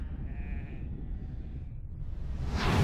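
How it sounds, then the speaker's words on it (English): Sheep bleat faintly in the distance over a low rumbling background, with a brief bleat early on and a louder rising noise at the end. "The sheep are revolting."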